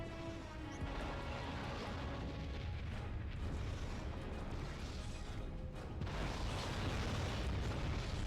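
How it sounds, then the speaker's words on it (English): Missile explosions in the Star Trek Encounters space combat game on PS2, a continuous rumbling wash of booms and blasts with barely any pause, moderately loud throughout. "missiles are just non-stop."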